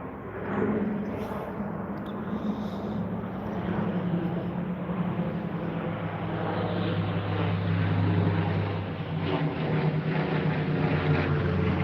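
A private jet flies overhead outdoors, a steady low engine rumble with a droning hum that holds and slowly builds over about twelve seconds, with no talking.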